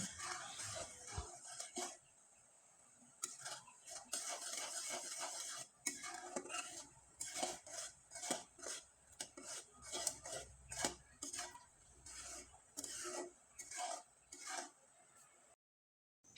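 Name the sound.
stirring sugar syrup in a pan until thick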